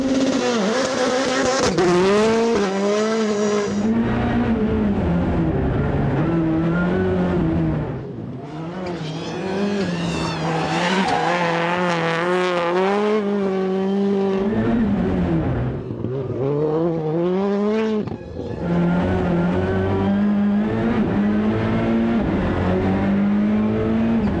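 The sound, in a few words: rallycross car driving on track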